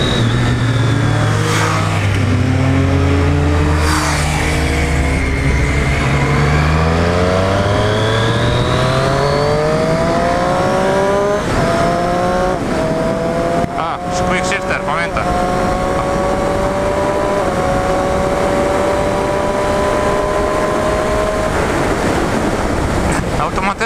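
A Triumph Street Triple 765 RS motorcycle on a test ride revs hard through successive gears, rising engine whine climbing and dropping with each shift, loud and close over rushing wind noise.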